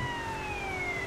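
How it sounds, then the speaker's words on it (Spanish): Police car sirens in GTA San Andreas multiplayer, a steady electronic wail with long gliding tones held through the whole brief moment, loud and close over a low rumbling game background. "El camino, pues, lo vamos entreteniendo con las sirenas, así como mola, la luz y los colorcitos y las cosas."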